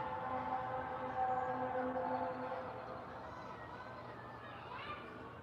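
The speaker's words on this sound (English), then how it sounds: "There's a siren going off." A siren wails steadily in the distance, its tones holding and wavering, with muffled voices and background murmur beneath.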